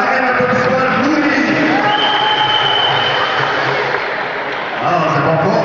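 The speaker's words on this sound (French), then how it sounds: "Un applaudissement bien nourri, je parle d'applaudir Madame Anne, un applaudissement nourri." A crowd at a fight event applauds Madame Anne with dense, sustained clapping and cheering that fills the space, steady and loud throughout with a brief dip near the end, while a voice talks over it on a loudspeaker.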